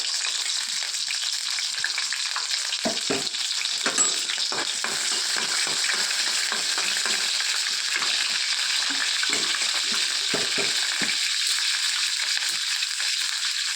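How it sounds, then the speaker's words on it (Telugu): Green chillies frying in hot oil in a pan for eggplant chutney, a loud, continuous crackling sizzle with occasional stirring scrapes throughout. "పచ్చిమిర్చి వేసుకున్నాను నేనైతే."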